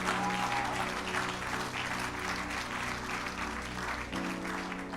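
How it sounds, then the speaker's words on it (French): A church congregation applauding steadily and loudly throughout, a dense continuous clapping with a brief faint whistle near the start. "On peut acclamer."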